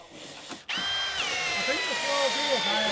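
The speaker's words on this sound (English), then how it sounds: "It's got a 25mm DeWalt speed bit in there as well, which probably helps the drill as well." A Milwaukee drill set in slow gear bores with a 25mm DeWalt speed bit during garden room base and wall construction, a short start then a steady close whine that rises and holds, with people talking over it.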